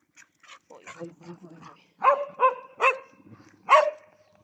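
Several sharp dog barks ring out close by in a rhythmic burst, mixed with lower murmuring voices in the background.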